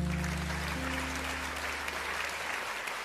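A TV talent show audience applauds a young girl contestant, steady, dense clapping filling the hall for about three seconds, with a low musical hum underneath.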